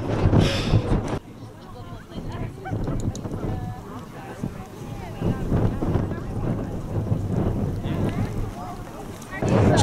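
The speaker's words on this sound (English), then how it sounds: "Quite windy up here, which isn't unexpected." Strong gusty wind on the Mam Tor hilltop in the Peak District buffets the microphone with heavy low rumbling that swells and fades throughout, loud and close, with no clear talking.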